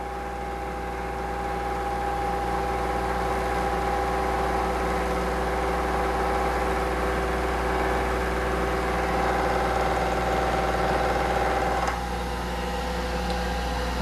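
A milling machine runs steadily through a final cutting pass, a constant motor hum with tonal whine and fine chatter from the cutter, unchanging for most of the time, then a slight shift near the end.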